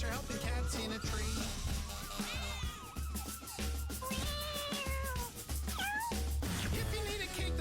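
Cartoon cats meowing repeatedly in a children's TV commercial, loud and close over a marching beat, with bouncy music and a siren-like tone.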